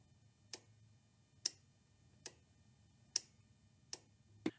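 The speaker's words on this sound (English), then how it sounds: "you should be able to pick up a faint click." The fuel solenoid at the bottom of a riding lawn mower's carburetor gives faint, sharp clicks as the key is turned on and off. Six evenly spaced ticks sound against quiet background hum.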